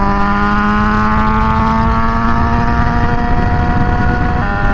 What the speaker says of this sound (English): what's with all the traffic?